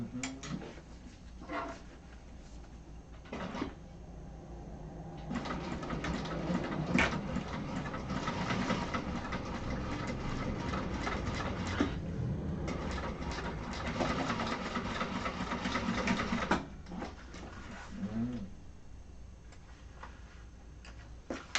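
Sewing machine top stitching a martini bag, a steady mechanical whirring and ticking that runs in several long stretches separated by short stops, close and moderately loud with no talking.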